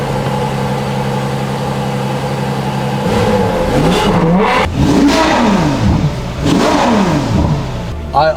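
A Ferrari F12 Berlinetta with a 6.3-liter, 740-horsepower engine holds a steady, loud idle, then is revved repeatedly in rising and falling surges, heard close up.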